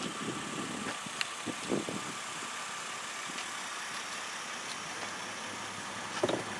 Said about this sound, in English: Now, this car is already running, and it sounds great.